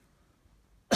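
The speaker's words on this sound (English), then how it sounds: "sorry about the cough" A single short, sharp cough bursts out near the end after near silence, close and fairly loud.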